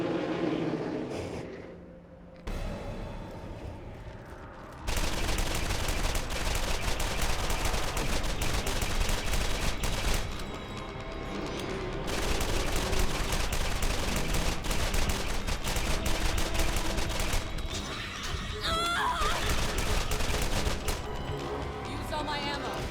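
Sustained automatic gunfire from the video game Borderlands, loud, continuous rattling bursts that run almost unbroken, with brief lulls between volleys.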